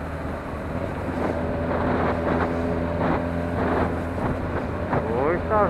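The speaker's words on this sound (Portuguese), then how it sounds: "Tá ventando hoje, viu?" Gusty wind buffets the microphone over a low engine drone, with a voice speaking intermittently, on Avenida Desembargador Moreira in Fortaleza, Brazil.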